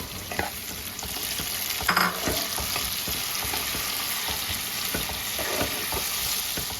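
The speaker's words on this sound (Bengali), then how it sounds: "পেঁয়াজটা আমার হালকা ভাজা হয়ে গেছে এবার আমি কুচুনো টমেটোগুলো দিয়ে দেবো" Chopped tomatoes go into lightly fried onions in a pan for egg masala khichuri, giving a steady close sizzle of frying with scraping stirs of the spoon throughout.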